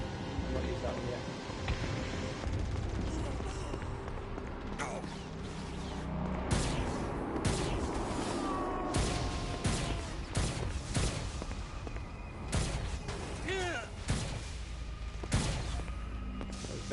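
Gunfire from the Saints Row: Gat out of Hell game comes as scattered shots and rapid bursts amid crashing action noise, while someone talks over it now and then.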